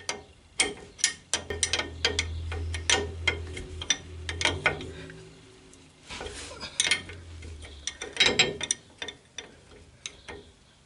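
Bolts holding the small stop plates on a Citroën Traction 11B rear axle are tightened with a 14 mm wrench, giving sharp metallic clicks and ratcheting taps in irregular bursts, close up, with quiet gaps between.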